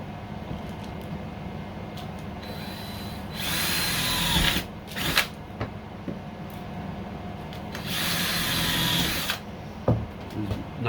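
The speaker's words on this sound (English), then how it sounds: "Knock some holes just through the aluminum." A power drill whirs in two long, loud bursts as it drills through aluminum, separated and followed by short clicks and clunks against a steady background hum.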